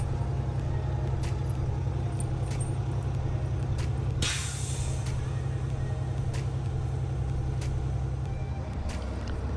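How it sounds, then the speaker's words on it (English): A truck rolls slowly forward with a constant low engine rumble, broken midway by a sharp hissing burst of air brake release. "So we will move the truck forward"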